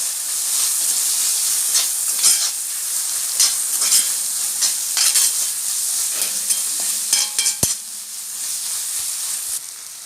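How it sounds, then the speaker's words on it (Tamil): Tomatoes sautéing with onions in a pan for a Tamil sundaikai poriyal, a steady sizzling hiss with stirring scrapes and clinks near the end, close and moderately loud with no talking. "இப்போ தக்காளி போட்டு நல்லா வதக்கி எடுத்துடலாம்"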